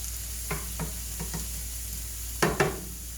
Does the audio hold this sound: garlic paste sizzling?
yes